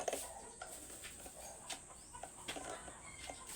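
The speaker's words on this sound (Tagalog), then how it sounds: "At ayan ang mga manok nagtitilaok." Chickens and roosters call faintly in the distance in the rural Philippine countryside in the morning, scattered clucks and crows over a quiet outdoor background.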